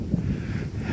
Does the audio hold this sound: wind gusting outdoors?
yes